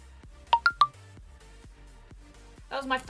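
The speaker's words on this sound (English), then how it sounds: "what the hell's that bleeping noise? That's an email." A phone chirps three quick rising email-alert bleeps early on, followed by soft knocks and a voice speaking at the end.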